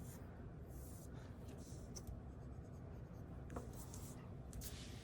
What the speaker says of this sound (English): we do have this delicate little shadow line under the edge of the bowl that we'll just lightly sketch in.